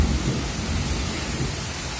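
Heavy rain pours down steadily with deep rolling thunder, loud and close, a dense continuous wash with no voices.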